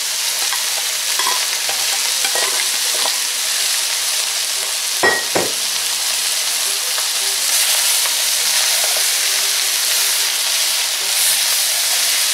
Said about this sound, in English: Let that in our peppers and celery.